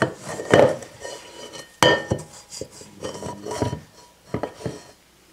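Sticky pizza dough being scraped out of a mixing bowl makes a run of close, uneven clatters and scrapes, several sharp knocks of a utensil against the bowl between softer rubbing sounds, with no talking.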